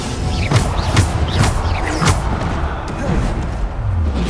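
Bombarda spell explosions in the video game Hogwarts Legacy, repeated heavy booming blasts and crashes every half second or so over a dense, loud rumbling combat background.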